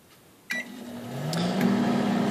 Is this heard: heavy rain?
no